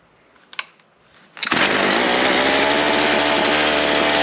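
A Ryobi C4618 chainsaw, chain brake on, is pulled once or twice, then its small two-stroke engine fires and runs loud and steady at high revs, close by.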